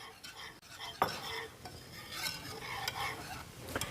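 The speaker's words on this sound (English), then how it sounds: "I'm gonna whisk that in" Instant cream of wheat is whisked into milk in a pot, producing a soft, continuous close swishing and scraping with a few sharper clinks of the whisk against metal, fairly quiet and without speech.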